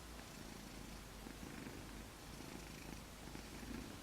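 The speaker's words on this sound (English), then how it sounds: "You may hear him purring." A cat purring steadily up close, a soft continuous low rumble with a gentle rhythmic pulse and no voices.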